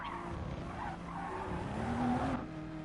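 A GT race car braking and skidding at Monza in a racing video game: a fairly quiet tire squeal rises over a steady engine drone for a couple of seconds.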